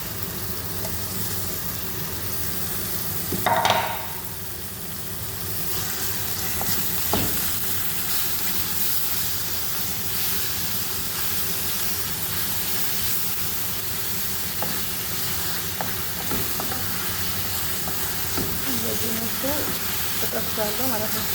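Ground chicken frying with onions in olive oil, giving a steady, dense sizzle and hiss that fills the whole stretch, with occasional stirring clinks and a brief louder burst near the start.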